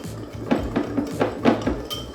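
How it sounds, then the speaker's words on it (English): A spoon mixing ground ginger, nutmeg and cloves for homemade pumpkin pie spice in a bowl, with a steady run of soft scraping clinks at a quick, even rhythm, close up and without talk. "we'll mix all this together"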